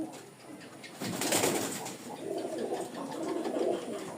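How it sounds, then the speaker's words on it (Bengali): Pigeons kept for flying coo and rustle close by inside a loft in Rajshahi, soft throaty calls repeating over a muffled background with a brief burst of flapping or movement. "এই দেখেন এখানে সব মাশাল্লাহ উড়ার কবুতর।"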